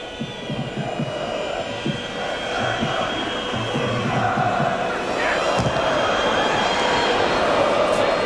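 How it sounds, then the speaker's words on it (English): A home football crowd in a packed stadium at a 1998 World Cup qualifier between Poland and England roars and jeers the England goalkeeper, a dense continuous wall of voices with whistles and shouts under a commentator's talk. "the home crowd starting to give Seaman a bit of a going over"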